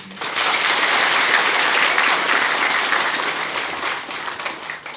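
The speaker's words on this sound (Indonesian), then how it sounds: "Mari kita berikan aplaus." An audience applauds at a formal gathering, a loud, dense wash of many hands clapping that holds steady for several seconds before slowly thinning, with no speech over it.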